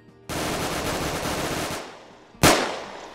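Video game gun fires a sustained automatic burst for about a second and a half, its loud rattle trailing off, then a single sharp shot cracks out and fades; no talking.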